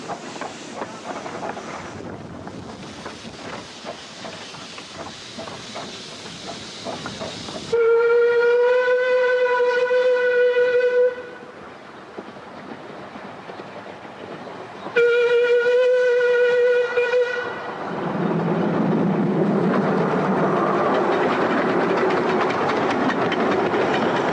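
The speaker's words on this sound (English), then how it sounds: "Number 3 is a 462 Pacific type locomotive built in 1926 by Davy Paxman." A 1926 Davy Paxman 4-6-2 Pacific steam locomotive in green livery runs on the line between New Romney and Hythe. Rhythmic wheel clatter is broken by two long, loud whistle blasts, followed by a heavy rolling rumble as the train passes.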